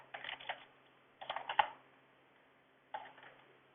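Typing on a computer keyboard in short bursts of quick, clicky keystrokes separated by pauses, close and fairly quiet, with no talking.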